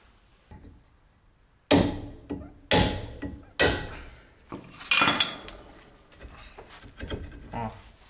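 Sharp metallic hammer blows strike a seized car brake disc, about six heavy hits at uneven intervals, ringing briefly, with softer clanks between.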